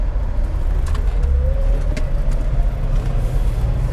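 A 1976 Datsun 280Z accelerates up to speed, a steady engine drone with a rising pitch sweep under road and wind rumble, heard from inside the car, continuous and moderately loud.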